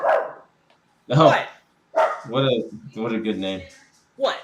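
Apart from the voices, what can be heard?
dog barking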